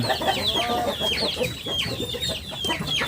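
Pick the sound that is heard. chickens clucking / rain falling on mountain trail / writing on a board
chickens clucking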